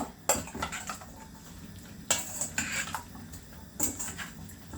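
Pepper is stirred in a metal cooking pot, with a spoon clinking and scraping against the pot in three clear clattering bursts between quieter scraping.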